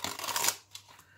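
Backing is peeled off adhesive tape on cardboard while making a cardboard ephemera holder, giving a brief, close, crackling rip that fades, followed by a faint short tug.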